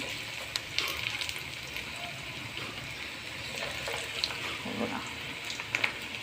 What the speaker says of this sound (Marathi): हे आपले छोटे छोटे कटलेट मस्तपैकी तळून घेऊया